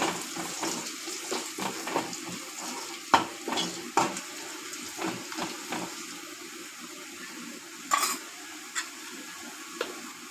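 Turmeric and ginger-garlic paste being stirred in a pan for Sunday chicken fry, with a gentle sizzle and repeated scraping spoon strokes, a few sharper clinks, fairly close and moderately quiet, no voices.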